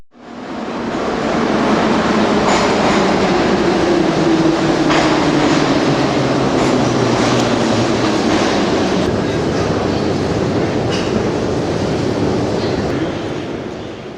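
A Moscow metro train running at speed, a loud steady roar with rumbling wheels and faint rhythmic clatter that persists throughout.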